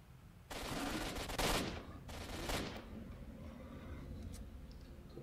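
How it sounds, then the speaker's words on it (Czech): Gunfire in S.T.A.L.K.E.R.: Shadow of Chernobyl, several fast automatic bursts of shots at moderate distance, with a gap between them, then quieter background game ambience. "To střílí po nějakých těch psech tam."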